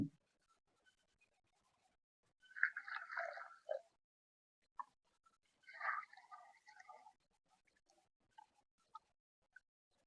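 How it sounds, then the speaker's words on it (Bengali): Flattened rice (chira) being washed by hand in a bowl of water: two soft bursts of swishing and squelching, quiet and close, separated by faint drips and small taps. "এবার আমি চিড়েটাকে একটু ভালো করে ধোবো।"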